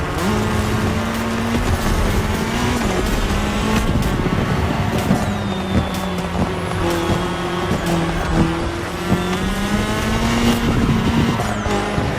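Race cars in The Crew Motorfest racing game run a cross-terrain event on tarmac, with loud sustained engine drone, shifting pitch and repeated tire squeals throughout.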